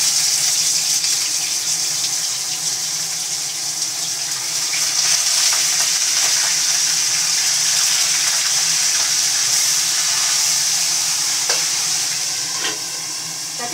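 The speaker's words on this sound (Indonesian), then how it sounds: "Ini ikannya mau digoreng ini ya." Fish frying in hot oil in a home kitchen in Hong Kong gives a steady, loud sizzle and crackle lasting throughout, with occasional sharper pops and no talking.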